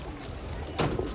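Golden pigeons coo softly in a loft, a low murmuring call with a brief louder burst near the end over faint background noise.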